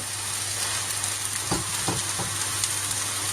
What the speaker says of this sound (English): Bring those vegetables up so we can get our noodles to mix in very well